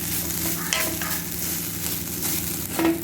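Food sizzles and fries steadily in a pan while making puffed rice laddu, with occasional stirring scrapes and clinks throughout.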